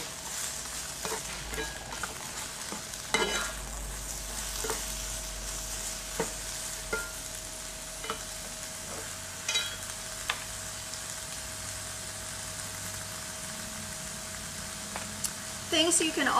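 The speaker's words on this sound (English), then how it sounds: "I'm just going to put that pan right on top, and it's going to cook that quesadilla up nice and easy" A veggie quesadilla with peppers cooks under a hot cast iron pan pressed on top, giving a steady soft sizzle with occasional light clicks and scrapes throughout, moderately quiet and close.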